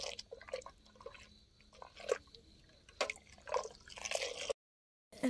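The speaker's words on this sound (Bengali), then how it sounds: "এখন এই যে অল্প অল্প করে দুধগুলো পিঠার মধ্যে দিয়ে দিচ্ছে" Milk mixed with jaggery is poured little by little onto pitha, giving a string of soft, irregular drips and trickles close by, with brief pauses between splashes and a moment of near silence near the end.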